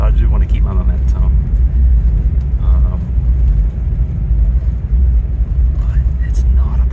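A 2023 Chevrolet Bolt EUV electric car rolls along a snowy country road with a low, steady rumble of tires and cabin noise, while someone talks over it.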